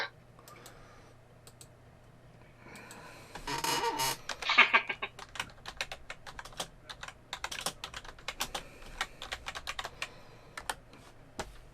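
Sharp clacky keystrokes from a mechanical keyboard, starting with a burst then continuing as irregular rapid typing, close and fairly quiet.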